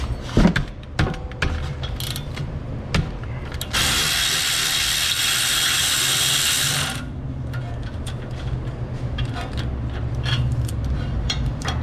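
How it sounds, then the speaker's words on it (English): A ratchet breaks loose the 15 mm rear caliper mounting bolts on a Ford Flex, first with rapid close clicking bursts, then a long continuous rasping ratchet run, then more scattered clicks at a steady, close level. "And then we can go ahead and remove our caliper mounting bolts. Go ahead and break these bolts loose."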